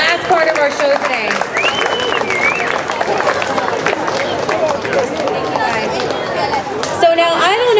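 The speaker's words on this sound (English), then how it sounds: "Let's give them one big round of applause before we move on to the last part of our show today." Audience applause with cheering and crowd noise at a House of Hungary community event, a dense, steady wash of clapping and voices that stays loud throughout.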